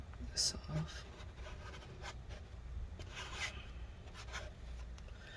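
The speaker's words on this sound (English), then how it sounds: "And scrape this off." Scraping old adhesive off the inside of a 13-inch MacBook Pro A1502 (Early 2015) during a battery replacement, soft repeated rasping strokes that run steadily under quiet background hiss.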